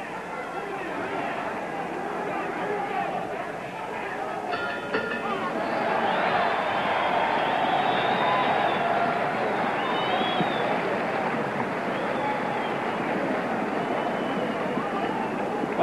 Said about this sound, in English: Well, the crowd is roaring.